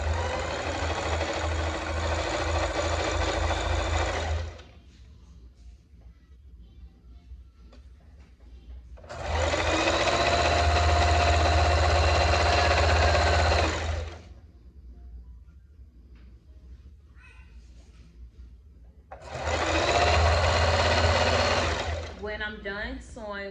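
A sewing machine stitches ribbon onto tulle in three close, steady whirring bursts of several seconds each, separated by quieter pauses with faint handling noises.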